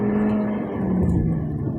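A 2021 Volkswagen Lamando SE/SEL accelerating hard, its engine giving a steady loud drone with road and wind noise and no talk.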